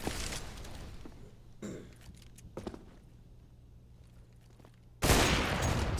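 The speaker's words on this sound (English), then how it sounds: "splashGOD immediately putting that op to use. He's going to get the first kill on Dobu" AWP sniper rifle gunfire in a CS:GO match on Mirage, with muffled in-game footsteps and movement through the first seconds before a loud, abrupt shot bursts out near the end.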